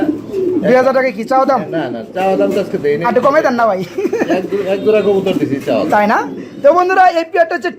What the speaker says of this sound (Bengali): ভিডিও স্ক্রিনে দেখতে পাচ্ছেন একজোড়া ইউলো কালার কবুতর রয়েছে